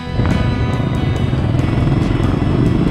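A vintage Yamaha XT off-road motorcycle rides with a loud, close, continuous engine drone and rumble, steady throughout with no speech.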